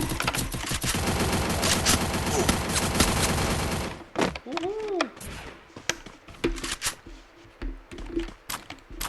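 Rapid automatic gunfire in the Free Fire mobile game, a dense burst of shots for about four seconds until the magazine runs dry, then scattered quieter game sounds and brief voices.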